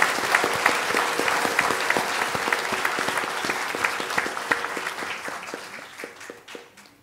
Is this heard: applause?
yes